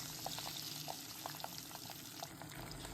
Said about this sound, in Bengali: তারপরে গরম হলে একে একে মাছগুলো ছেড়ে ভালো করে ভেজে নেব।